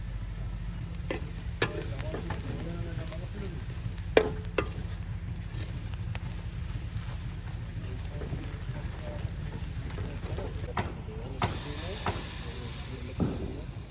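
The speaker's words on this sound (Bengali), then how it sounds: "আমাদের মশলা কষানো শুরু হয়ে গেছে" Spice paste sautés in a karahi with a soft, continuous sizzle and hiss, broken by occasional sharp clicks and scrapes of a spoon, while a voice speaks intermittently nearby.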